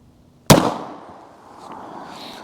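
Single close, loud gunshot from a 3-inch SIG P365 pistol firing a 9mm solid copper hollow point into gel, a sharp crack with a short ringing decay and no talk.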